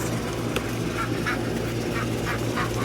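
Several ducks quack and honk in short bursts over a steady low background hum, with no talking.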